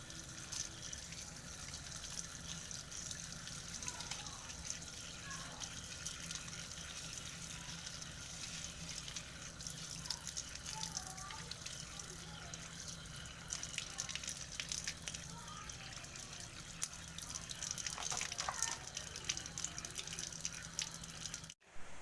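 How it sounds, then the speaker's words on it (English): Water runs over photographic film to rinse bleach off it, a faint, steady trickle and splash that goes on throughout and gets slightly louder near the end. "You gotta rinse all the bleach off of it."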